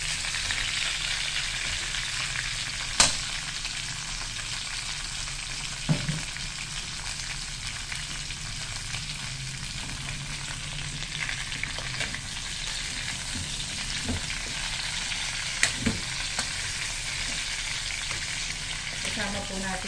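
Fried pork belly for estofado stirred in a sizzling pan, a steady loud frying hiss running throughout with occasional sharp clinks of a utensil against the pan.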